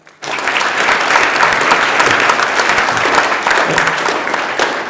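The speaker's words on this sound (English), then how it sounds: "If you could please give them a big round of applause." A sudden, loud round of applause from the audience in a state Senate chamber during a floor session, dense and sustained for nearly five seconds.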